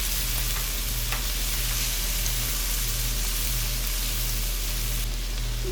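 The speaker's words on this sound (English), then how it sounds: "Now goes in diced pimento peppers and saute for 1 minute" Diced pimento peppers sauté in melted butter with a steady, close frying sizzle that holds evenly throughout, with faint stirring scrapes and no voices.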